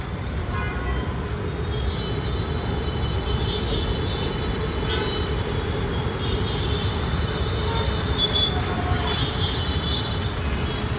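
A Hyderabad metro train passes at Uppal station as a steady, broad roar mixed with road traffic noise. Faint high squeals and tones rise over it from time to time.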